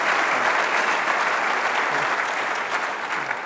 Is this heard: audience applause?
yes